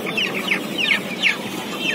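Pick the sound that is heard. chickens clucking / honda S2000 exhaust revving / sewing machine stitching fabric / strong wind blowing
chickens clucking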